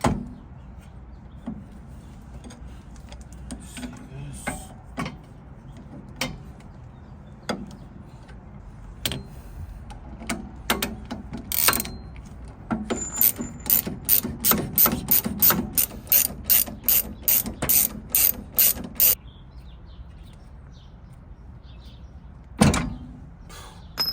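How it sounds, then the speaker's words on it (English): Rapid ratchet clicks working a breaker bar on a tight 17 mm bolt during a Honda S2000 coilover install, starting sparse, then quickening into a regular close clicking run before stopping, with a final clunk. "I'm breaking it loose with the breaker bar, just because it's on there pretty tight"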